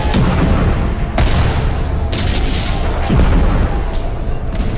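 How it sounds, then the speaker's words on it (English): Civil War cannon and artillery fire from Michigan gunners, a rolling series of heavy booms about once a second, loud and close, each blast spilling into the next over a constant rumbling din. "The Michigan men fire 64 rounds."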